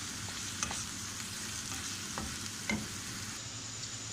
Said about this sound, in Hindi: ये प्याज हम फ्राई कर लेंगे